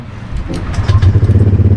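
A motorcycle engine is started in a workshop during live sensor monitoring for a remap, a short close burst that quickly falls into a loud, evenly pulsing idle.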